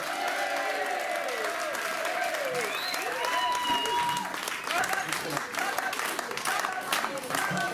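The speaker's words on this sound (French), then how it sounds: "je vous demande d'applaudir le docteur Jean Danty, maire sortant" Sustained applause from a crowd at a 2020 municipal election campaign meeting in Remire-Montjoly, steady and dense throughout, with voices and cheering mixed into the clapping.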